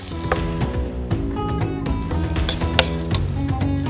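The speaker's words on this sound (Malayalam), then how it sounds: "ഈ അരി ഒന്ന് വറുത്തിട്ടാണ് നമ്മൾ ഈ ചോറ് വെക്കുന്നത്." Jeerakasala rice dry-roasting in a hot pan for biryani gives a steady close sizzle, broken by irregular scraping and clicking as the grains are stirred.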